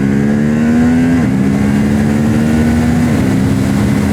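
A 2023 Honda CB750 Hornet middleweight naked motorcycle engine hums loudly and steadily under way, its pitch dipping slightly as it shifts and climbing again, with continuous wind and road noise.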